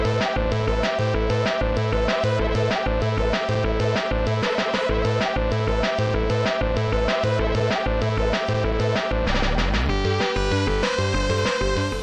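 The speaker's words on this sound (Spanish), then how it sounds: "escuchando un track, una canción realizada por ordenador" Computer-made electronic music track plays at full level with a dense, steady beat, thumping bass and repeating synth patterns, with a brief sweeping filter effect near the end and no talk.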